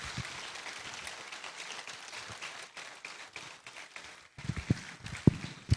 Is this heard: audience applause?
yes